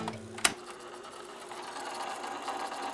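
A broken tape player runs without moving its tape properly. A faint, steady mechanical whir with light rattling follows a sharp click near the start, heard close up and quiet.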